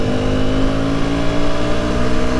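A brand-new dirt bike's engine revs at speed, a loud steady drone climbing slightly in pitch, close up with no talk.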